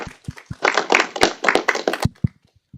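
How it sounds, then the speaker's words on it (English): A short burst of audience applause for the judges at a startup pitch competition final, scattered claps building into a dense patter then thinning out, close and fairly loud. "let's give a round of applause to our judges"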